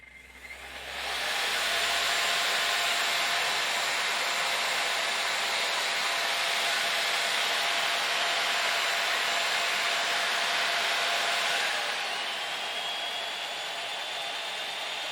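A saw and a hairdryer run together on a DaranEner NEO2000 LiFePO4 portable power station. A loud steady whirring roar rises quickly and holds for about ten seconds, then drops slightly to a lower, softer drone.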